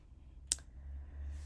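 A single sharp mouse click, brief and close, in an otherwise quiet room.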